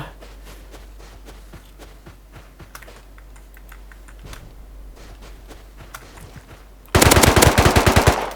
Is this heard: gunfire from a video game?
yes